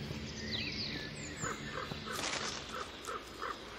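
Hungry white-tailed eagle chicks call from the nest in the Hungarian wild, repeated short harsh squeals and chirps in a steady series over rustling background noise.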